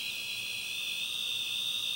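A radiation meter alarm sounds near a light in the red alarm zone, giving a steady, continuous high-pitched tone that holds without a break and is heard alone.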